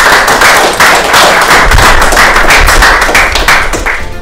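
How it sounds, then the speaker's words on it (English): A loud, dense round of clapping for a guest on a business podcast, sustained and close for several seconds before starting to taper off at the end. "round of applause for Carl"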